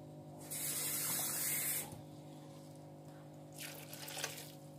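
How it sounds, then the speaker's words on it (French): A glass of water is poured into a pot of courgettes cooking over low heat, giving a splashing pour of about a second and a half. A quieter second trickle follows, all over a steady low background hum with nobody speaking. "On va mettre ça à feu doux et on va ajouter un verre d'eau."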